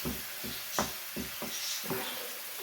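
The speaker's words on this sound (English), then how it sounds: "I'm just going to crush this up and fry it until it's nice and done" Ground meat frying in a pan while being crushed and stirred for a cottage pie, a steady sizzle broken by regular scraping strokes about twice a second.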